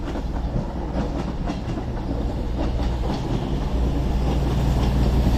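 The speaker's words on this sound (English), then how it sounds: "Coming in now with the 11:36 cross-country service to Bournemouth from Manchester" A CrossCountry passenger train pulling into Stockport station on the West Coast Main Line, with a loud, close, steady rumble and faint wheel clatter that builds slightly as it arrives.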